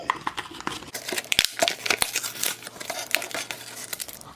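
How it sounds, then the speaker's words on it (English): A plastic blind bag package for Lil' Shuckies Pearl Party toys is ripped open up close, with crinkling and sharp tearing bursts, then rustling and handling of the wrapper. "This seems to rip open pretty nicely."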